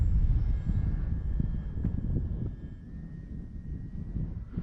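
An FMS PC-21 Pilatus RC model airplane comes in to land with its landing gear down and landing flaps set, its motor giving a thin, steady whine over constant wind rumble, moderately faint.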